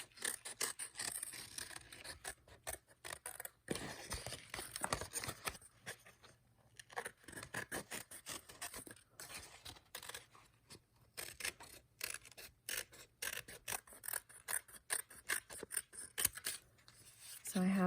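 Scissors snip around a watercolor paper heart in a string of quiet, irregular crisp cuts and rustles, close by, with short pauses between strokes.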